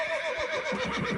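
A horse neighs in The Witcher 3: Blood and Wine, one drawn-out whinny with a wavering pitch, close and loud, followed by a short snort-like rumble.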